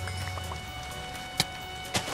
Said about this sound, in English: I can't go outside because it's raining